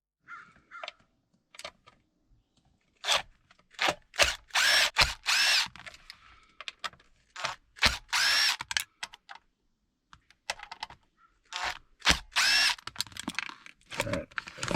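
Power drill backing screws out of a car stereo dash in a 1996 third-generation Toyota 4Runner Limited, short whirring bursts repeated at uneven intervals between quiet clicks and handling noises, moderately close.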